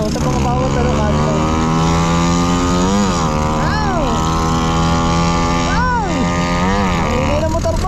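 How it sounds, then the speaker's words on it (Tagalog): A motorcycle engine drones loud and close while riding along a road in Carmona, Cavite, its pitch sliding up and down as the rider shifts and changes speed. "Ang ingay ng motor mo."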